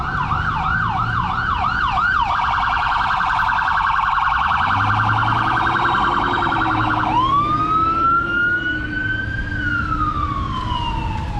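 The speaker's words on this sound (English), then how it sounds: "We got an ambulance coming." An ambulance siren passes at a roundabout in Mérida, loud and close, cycling through a rising wail, then a steady tone, then a sliding yelp as it goes by, over steady traffic noise.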